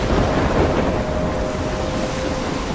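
A thunderstorm in the video game Life is Strange roars steadily, with dense rushing rain and wind under a low rumble of thunder, loud and continuous throughout with no talking.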